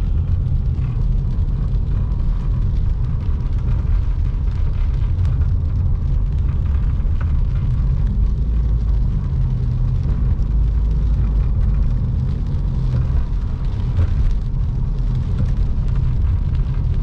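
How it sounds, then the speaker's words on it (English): Heavy rain falling at night in Big Bear Lake, California, heard as a dense, steady, roaring wash of noise with no breaks. "We're getting some pretty good rain right now."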